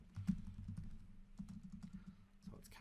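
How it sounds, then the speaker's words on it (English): Keys of a computer keyboard tapped in quick irregular bursts at close range, quiet and dry, with a faint hum beneath and brief pauses between runs. "Now, as you can see, as I'm typing,"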